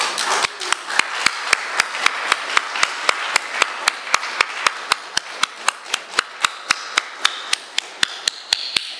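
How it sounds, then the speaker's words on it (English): Rhythmic clapping for non-performing attendees at a music gathering: sharp, evenly spaced claps about three per second, loud and close, beating steadily over a softer wash of crowd noise. "I want to give a special round of applause to people who come and are not performers"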